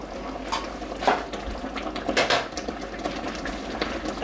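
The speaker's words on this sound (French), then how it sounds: "on va laisser mijoter tout ça" Lasagna sauce simmers in a pot over lowered heat, giving off a soft, continuous bubbling with scattered faint pops and small splutters close by, and no one speaking.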